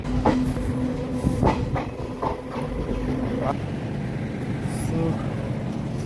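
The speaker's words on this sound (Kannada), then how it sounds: "ಟ್ರೈನ್ ಬಂದೈತೆ ರೀ" A Konkan Railway train rumbles in close and loud near a station after a tunnel, with clattering wheels, a brief squeal, and a horn blast near the start.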